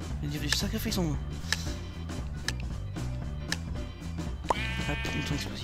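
An explosive sheep in a video game bleats several times in quick succession, mid-distance and clear over steady backing music.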